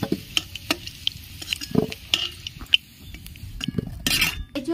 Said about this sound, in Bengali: এঁচড়গুলো ভেজে নিচ্ছি।